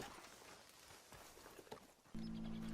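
Horses in the Red Dead Redemption II video game move about with soft, faint hoof clip-clops against a murky backdrop, followed by a steady droning tone near the end, no speech.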